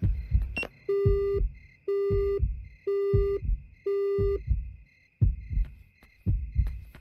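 A telephone busy signal in the game Yomawari: Night Alone plays after a call is hung up, with four evenly spaced tones, loud and clear, over a low pulsing heartbeat-like background.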